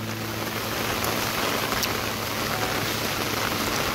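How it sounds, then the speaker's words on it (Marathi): Heavy monsoon rain pours steadily without pause on a Konkan roadside near a bridge over the flooding Kajali river, a loud, dense, unbroken hiss filling the whole scene. "कंटिन्यू 1 तास लागतोय पाऊस"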